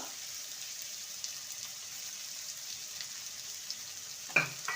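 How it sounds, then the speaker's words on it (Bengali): Chopped onions frying in a pan as grated ginger goes in, giving a faint, steady sizzle with a single sharp utensil clink near the end. "পেঁয়াজকে ভেজে নেব আর দিয়ে দেবো গ্রেট করা আদা"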